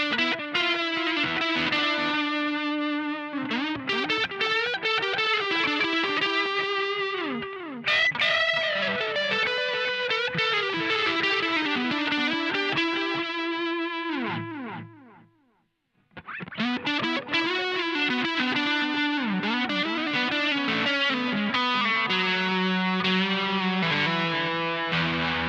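Electric guitar through a Mad Professor BlueBird Overdrive pedal set for lead work, sustained driven melodic lines with bends and warm saturation, loud and continuous apart from a brief pause midway.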